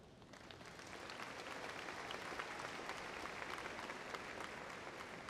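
A graduation crowd in a hall applauds steadily throughout, a dense even wash of clapping at moderate distance with no talk over it.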